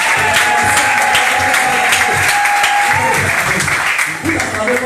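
A church congregation applauds and acclaims together: loud, continuous clapping from a large crowd, with voices and shouts mixed in under a sustained tone.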